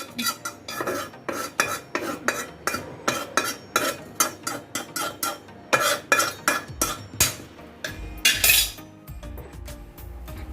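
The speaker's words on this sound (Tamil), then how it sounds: "இது நான் இப்போ நக்க தான் போகிறேன் மிக்சி ஜார்லாம் யூஸ் பண்ணல" Steady, rhythmic hand pounding of herbs into a fine powder for a natural hair dye, a quick series of sharp thuds, near and loud, with a heavier scraping burst near the end. No talking.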